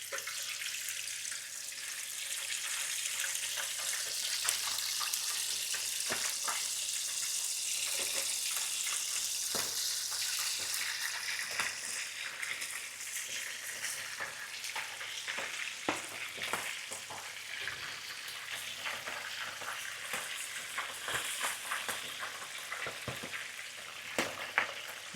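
Oil fries and sizzles steadily while country chicken cooks, a continuous bright hiss of bubbling fat with scattered pops and crackles, plus occasional stirring clinks, running unbroken for over twenty seconds.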